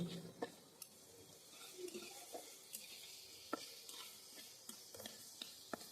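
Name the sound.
tengra fish frying in spice paste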